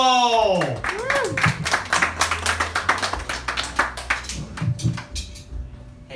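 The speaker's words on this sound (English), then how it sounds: "please clap those hands for Raj Mahal" A comedy club audience claps for a comedian being introduced, a burst of scattered handclaps fading as voices and a tonal sweep sit over it.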